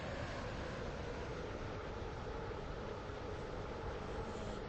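A Class 321 train pulls into a station on the Roblox Stepford County Railway, producing a steady, loud, unbroken rumble of wheels and motors that holds constant throughout with no voices.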